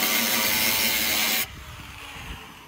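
Power tool cutting away sheet-metal truck fender material for tire clearance, a loud steady grinding rasp that runs for about a second and a half, then stops abruptly, leaving faint rattling.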